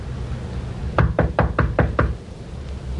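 Six sharp, evenly spaced knocks on a door, close and loud against a quiet room hum, in an old radio crime drama about a supermarket robber.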